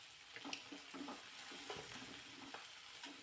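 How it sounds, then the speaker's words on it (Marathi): Whole spices and seeds roasting in hot oil in a pan while cumin and coriander powder are added for a Marathi home-style dish, a steady close sizzle with soft stirring scrapes and small crackles throughout. "तेलामध्ये बी चांगले असे भाजून घ्यायचे"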